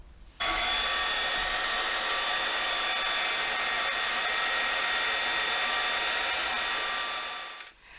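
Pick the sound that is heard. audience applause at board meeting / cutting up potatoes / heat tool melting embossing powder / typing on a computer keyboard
heat tool melting embossing powder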